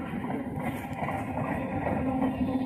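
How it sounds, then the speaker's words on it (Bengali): A local train from Krishnanagar passes along the railway line beside a high school field, making a continuous moderate rumble with a faint rising tone near the end. "এই ট্রেনটা আসছে পুরো আমাদের কৃষ্ণনগর থেকে"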